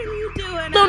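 A blaring alarm in the Minecraft game, its rising and falling electronic wail repeating over less than a second, loud and close, with no talking over it.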